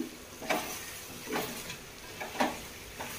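Chicken curry with chili powder and coconut powder being stirred in a pan, a few soft scraping strokes over a low steady sizzle, close and alone.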